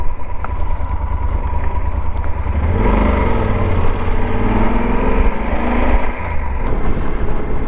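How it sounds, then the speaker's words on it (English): A 2012 Yamaha Super Tenere motorcycle engine runs steadily while riding, a continuous growly low drone with a rising rev and a few clattering knocks midway, loud and close with no talking. "It's an interesting kind of a growly feel in the engine."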